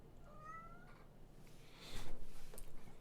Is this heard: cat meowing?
yes